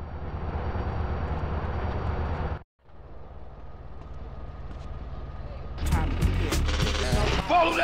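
Train in GTA San Andreas rumbling steadily, cutting out briefly, then returning with gunfire and other game noise under speech.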